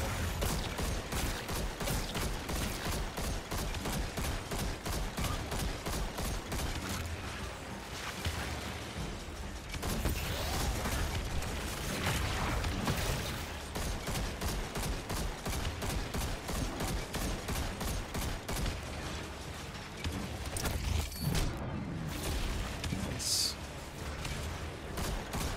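Sustained rapid gunfire in the video game Destiny 2 during a legend-difficulty Lost Sector in The Quarry, a dense stream of automatic shots that keeps going with brief pauses, heavy and close, with occasional speech.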